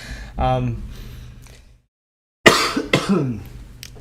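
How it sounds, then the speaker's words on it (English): A few harsh coughs close to the mic, one burst, a pause of silence, then a second rougher round of coughing. "so excuse my coughs"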